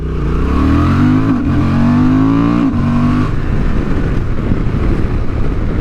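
A 2023 Honda Transalp XL750 adventure motorcycle in sport mode pulls hard on a paved road, its engine note climbing through two quick gear changes before fading into a roar of wind and road noise.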